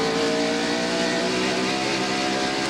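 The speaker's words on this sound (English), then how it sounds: "We can listen to Mark Martin's car and tell that he's not able to get on the gasoline, the accelerator." NASCAR stock cars at Bristol in 1996 roar steadily off the corner, a loud sustained engine drone with layered harmonic tones and no pause, close and unbroken throughout the short stretch.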